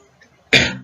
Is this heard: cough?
yes